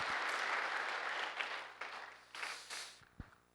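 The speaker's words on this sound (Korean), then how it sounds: "우리 하나님께 영광의 박수 올려드리겠습니다" A church congregation at an Easter Sunday service claps together in praise, a broad wash of applause that thins into a few scattered final claps and fades out near the end.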